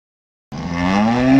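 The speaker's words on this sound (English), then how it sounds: "Now, no cow said." A cow lets out a single drawn-out moo that starts abruptly after silence and swells slightly louder, close and clear, with no other sounds.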